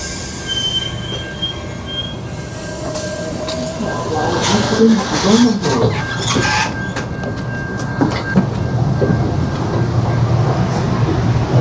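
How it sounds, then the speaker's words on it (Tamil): A double-decker train pulls in with loud, high-pitched wheel squeals and rumbling rail noise, growing louder as it arrives in Chicago, with a voice speaking faintly over it. "வாங்க ட்ரெயின் வந்துட்டுருக்கு பாருங்கள் நம்ம ஒரு டபுள் ரெக்கர் ட்ரெயினு"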